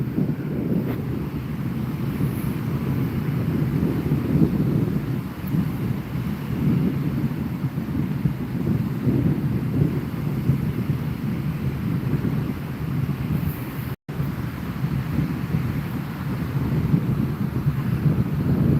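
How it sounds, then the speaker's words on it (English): Strong wind buffets a microphone outdoors at a Hawaiian campsite after a storm, a loud continuous rumbling roar with gusty swells and one brief dropout near the end. "Is the wind like too loud?"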